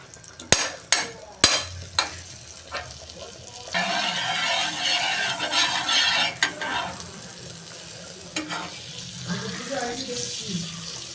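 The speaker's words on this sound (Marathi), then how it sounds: "आता पाव भाजून घेणार आहे. हे आपण बटर तव्यावर टाकलेले आहे." Pav bread toasting in butter on a hot tava griddle for homemade pav bhaji, a few sharp clicks at the start, then a steady, fairly loud sizzle and crackle that eases off toward the end.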